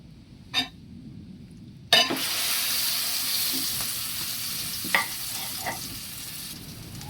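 An eggplant omelette (torta) sizzles steadily in a frying pan, the frying starting abruptly and continuing loudly, with a few scattered clinks and taps over the hiss.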